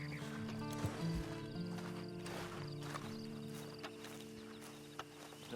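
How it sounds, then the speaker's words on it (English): Horse hooves clip-clop in Red Dead Online, a quiet, uneven run of hoof strikes with a neigh and soft game ambience and music. "Then you better get on this horse."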